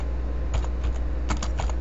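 Text being typed on a computer keyboard while creating a logo in Casmate software, a short run of close, crisp key taps in uneven bursts.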